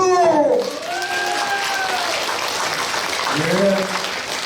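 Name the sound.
applause at rally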